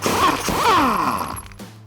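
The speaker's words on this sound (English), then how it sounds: "And my 30mm socket for this side, and remove the nut." A wrench and 30mm socket turning a nut loose on the front suspension of a 2004-2008 Ford F-150, giving a close, steady mechanical ratcheting and creaking with metallic scraping that drops away near the end.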